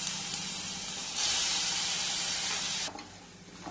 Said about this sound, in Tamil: இப்ப நம்ம இதுல ஒரு 3 ஸ்பூன் பாத்தீங்கன்னா இஞ்சி பூண்டு பேஸ்ட் ஆட் பண்றோம்.